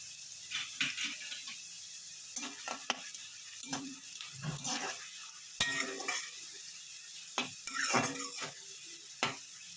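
Fish, beans and potato being lightly fried, with a soft sizzle under intermittent scraping and clinking of a spatula against the pan, quiet and close.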